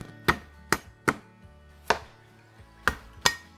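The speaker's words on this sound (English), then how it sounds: "You can bruise the shallot with your knife to allow the juice to come out." A kitchen knife bruises shallots on a cutting board for a Thai tom yum seafood hot pot, giving six sharp, close thwacks at uneven intervals with no talking.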